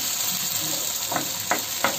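Ginger and garlic frying with onions in hot oil for a prawn gravy, giving a steady close sizzle with a few louder crackling bursts near the end.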